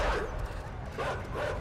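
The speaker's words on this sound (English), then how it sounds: "Stupid dogs." Dogs bark in the side-scrolling game INSIDE, a few gruff barks and yips coming in bursts over a dense, noisy game soundscape.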